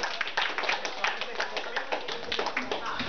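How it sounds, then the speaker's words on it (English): Scattered hand clapping from a small audience greeting a volunteer named Bree during a grad house magic performance, moderately near and fairly sparse, lasting about three seconds. "Everyone, give Bree a round of applause, please"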